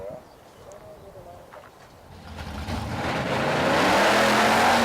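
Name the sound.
junior dragster at drag races, Kauai Raceway Park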